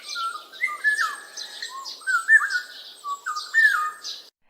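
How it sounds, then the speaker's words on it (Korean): A golden oriole sings in a Korean folk tale, a clear melodious run of whistled phrases and chirps, close and alone with no talk over it. "꾀꼬리의 아름다운 목소리를 들은 황새는 슬며시 걱정이 되었습니다"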